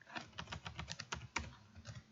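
Rapid computer keyboard typing while code is entered, a steady run of close, crisp key clicks with irregular rhythm and a few sharper strokes, heard alone without talk.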